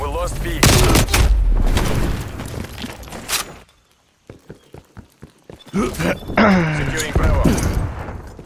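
Gunfire in a Call of Duty Cold War multiplayer match, dense bursts of rapid automatic shots up close, then a short lull with scattered single shots before heavy firing resumes alongside other game sounds.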